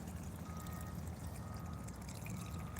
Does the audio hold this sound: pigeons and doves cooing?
no